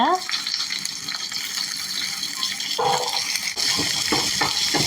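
Sliced onions fry in a pan for chicken devil, giving a steady sizzle with intermittent stirring scrapes that grow busier near the end, close and fairly loud, with no speech.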